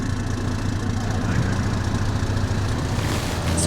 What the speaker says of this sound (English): That thing's engine sounds so good.